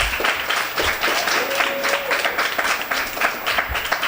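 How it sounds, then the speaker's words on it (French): Steady applause from a crowd at a children's Christmas dinner fills the clip, many hands clapping together at a moderate distance with no break. "je vous demande tous d'applaudir encore une fois pour leurs efforts."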